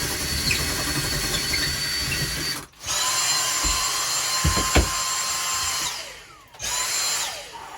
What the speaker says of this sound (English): It's always so scary when you drill a hole through your boat.